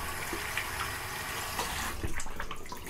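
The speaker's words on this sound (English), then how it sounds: "cold water rinse, that right there" Water running from a tap for a cold rinse after a shave; a steady close splashing rush with a few small knocks toward the end, no voices.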